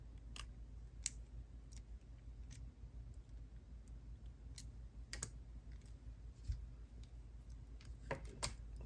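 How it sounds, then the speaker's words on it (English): Small cutters snipping excess wire while finishing a beaded necklace: a few sharp, isolated clicks and snips scattered over a faint, quiet room background. "Snip off the excess"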